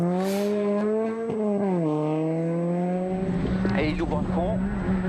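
A Citroën DS3 R1 rally car drives on a stage of the 2014 Rallye du Rouergue, its engine holding a steady high droning note before dropping off, loud and near, with a commentator talking over it.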